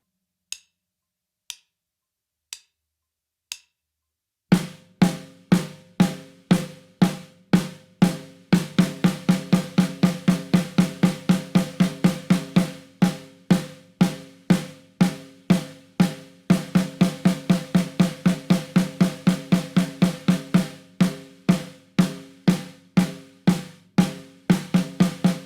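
Drum kit count-in of four clicks, then steady eighth-note hits that double into sixteenth notes, a crisp, close, even pattern with no talking.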